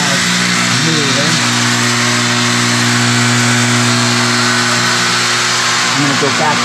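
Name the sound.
1970s Wurlitzer Americana jukebox mechanism running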